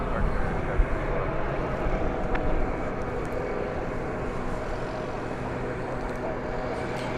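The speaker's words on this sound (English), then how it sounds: "That was American Flight 537 arriving from St. Louis, 737-800." An American Boeing 737-800 arriving at DFW Airport produces a continuous, moderately distant jet rumble and roar that holds steady throughout, with a few brief knocks near the start.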